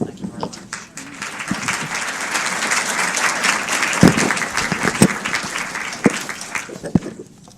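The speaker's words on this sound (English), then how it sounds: "giving all of our presenters another round of applause" Audience applause for presenters at a medical education panel, a full round of clapping that swells after a brief lull, with a few sharper individual claps and some voices mixed in.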